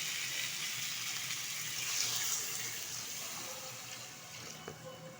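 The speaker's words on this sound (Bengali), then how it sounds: "দিয়ে দিচ্ছি পরিমাণ মতো জল।" Water poured into a pan of oil-fried spices for a rohu fish curry with yam, a steady close gushing hiss that tapers slightly, with faint kitchen clatter toward the end.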